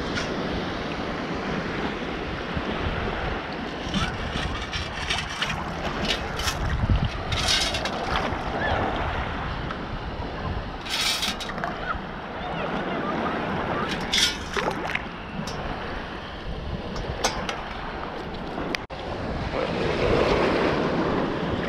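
Rough ocean surf rolls onto the shore as the tide comes in, with repeated crashing bursts over a constant roar and gusty wind buffeting the microphone.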